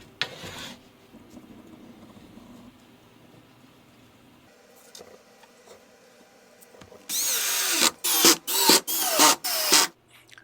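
Power tool shaving down high wooden floor joists during a bathroom floor levelling job: after quiet handling sounds, a loud grinding burst starts near the end and cuts in and out in four or five close, pulsing passes.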